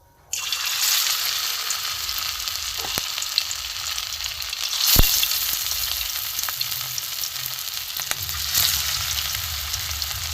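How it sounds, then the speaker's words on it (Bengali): Bitter gourd and potato kebabs fry in hot oil in a kadai on a gas stove, giving a steady, close sizzle that runs the whole time with a few brief louder crackles. "এগুলো আমি আস্তে আস্তে ভেজে নেব"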